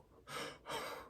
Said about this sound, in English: if y'all can hear me gasping